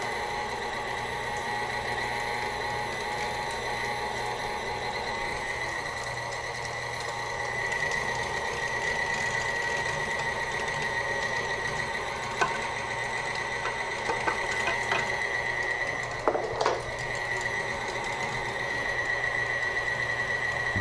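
An electric meat grinder runs on low speed, pushing meat through its auger with a steady, even motor hum and faint rattles, continuous for about twenty seconds without talk.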